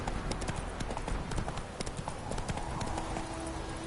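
A horse gallops in the video game The Witcher, with quick rhythmic hoof clip-clops running steadily throughout at moderate volume over an ambient game background.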